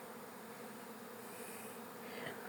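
Young honeybees flying out of a hive make a dense, continuous buzzing hum that stays close and steady throughout, with no talking.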